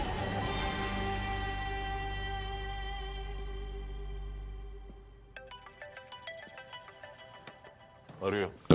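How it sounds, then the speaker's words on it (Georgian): A mobile phone ringtone plays a clear, repeating electronic melody in a TV drama scene. It sounds loud and close at first, then fades as other tones and brief voices take over near the end. "რეკავს."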